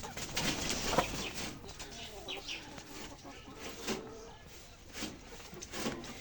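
Layer hen pullets, farm-raised and about a week from laying, cluck in scattered soft calls across a noisy poultry shed, with a steady bed of flock murmur and no clear speech.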